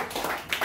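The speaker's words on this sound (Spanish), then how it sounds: "Da un aplauso al Señor." A church congregation clapping together, a quick burst of close, dense handclaps with a few louder peaks, over a very short stretch.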